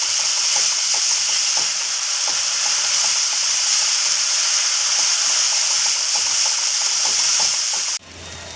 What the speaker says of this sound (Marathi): आपण छानपैकी हे परतून घेऊया